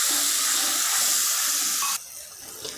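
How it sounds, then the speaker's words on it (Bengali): Water pours steadily and forcefully into a pan of frying masala for sorsa bori jhal in a village kitchen, a loud continuous gush that stops abruptly near the end, leaving faint bubbling; no voices. "তো আমি এতে আরেকটু জল দিলাম"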